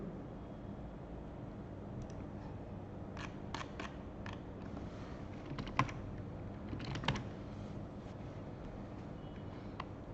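Keystrokes on a computer keyboard while entering text during a Python coding session, coming as scattered clicks and short bursts over a steady low hum, fairly faint and with no talking.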